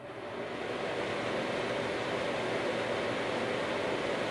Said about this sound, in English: Now I'll go and turn on my air conditioner and see how similar that sounds.